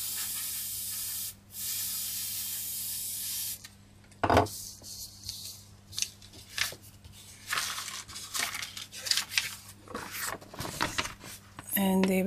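Copic airbrush driven by a Ciao marker sprays ink through a stencil in short broadband hissing bursts, with a long steady spray at first, then intermittent puffs, light rubbing and paper handling, and a voice speaking in between.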